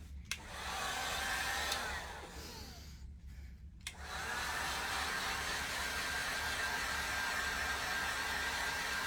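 A hair dryer blows steadily on a freshly painted pumpkin at a pumpkin crafting event, a loud continuous whooshing that briefly drops away and then resumes, with no talking.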